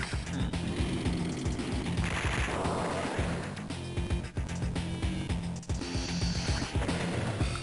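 Dense bursts of gunfire and explosive crashes from an Advance Wars mod strategy game as a unit attacks a tank, a busy, continuous barrage of rapid shots and blasts with no talk.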